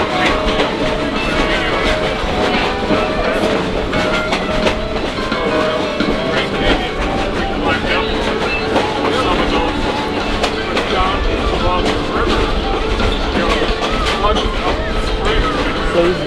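Verde Canyon Railroad train rolling along rails through a canyon near Clarkdale, Arizona, a steady continuous rumble with faint clickety-clack, loud and close throughout, with a voice talking over it.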